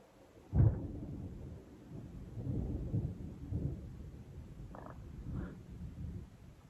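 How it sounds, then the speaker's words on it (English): Low thunder rumbles in the distance, opening with a sharp boom and then rolling in deep, uneven waves that fade and return. "that sounds like thunder, so it's probably rain"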